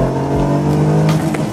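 A Renault Safran Biturbo with 262 horsepower revs loudly and steadily up close, its engine note holding strong and sustained without any voices.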